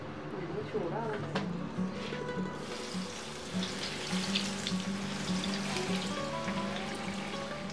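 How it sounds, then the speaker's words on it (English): Chicken parcels frying in hot oil make a steady, soft sizzle and crackle throughout, fairly faint, with light kitchen clatter and no talk. "I'll be frying the chicken parcels."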